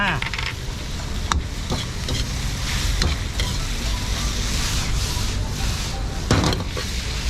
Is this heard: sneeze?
no